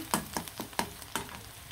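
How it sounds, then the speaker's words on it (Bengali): Finely chopped garlic and onion sizzle in a hot pan, with four or five sharp stirring scrapes at a steady, close rhythm over a continuous fry. "রসুন আর পেঁয়াজ দিয়ে দিলাম কুচি কুচি করে।"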